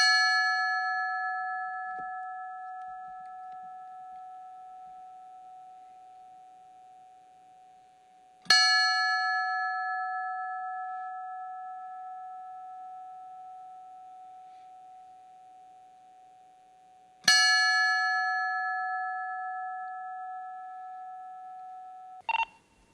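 A fire department memorial bell is struck three times in honor of a fallen firefighter, each clear ringing strike evenly spaced and decaying slowly into silence, followed by a brief faint click at the end.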